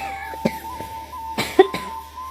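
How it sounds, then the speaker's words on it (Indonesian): A few sharp human coughs, two to three short bursts close to the mic, breaking up a quiet stretch with a steady faint hum underneath. "mohon maaf ya saya batuk"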